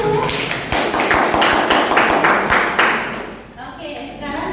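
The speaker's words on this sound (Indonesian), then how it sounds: "ini dari Agi, aplaus dulu" Students in a university classroom break into brief applause, a loud burst of clapping close by that fades out over a few seconds as a lecturer's voice carries on beneath it.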